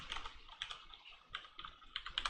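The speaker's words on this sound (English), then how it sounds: "I could walk across the keyboard with my finger, save it." Quick typing on a computer keyboard, a steady run of light, irregular clicks heard alone and close up.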